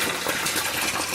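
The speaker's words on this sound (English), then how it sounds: "This siphon is just beginning, and then it's going to empty out all the water into the pond." An aquaponics siphon drains water from a grow bed into a pond, giving a continuous gushing, gurgling flow that is close and fairly loud, with no talking.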